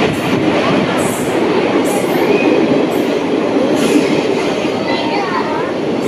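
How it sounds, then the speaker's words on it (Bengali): The 12364 Haldibari–Kolkata Intercity Superfast train pulls into Barddhaman station with a steady, loud rumble of wheels and carriages, broken by faint high squeals and clacks throughout. "আমাদের ট্রেন ঢুকে গেছে 12364 হলদিবাড়ি কলকাতা ইন্টারসিটি সুপারফাস্ট"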